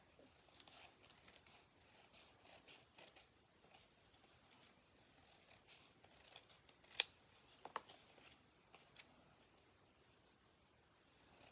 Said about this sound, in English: And kind of cut towards those slits.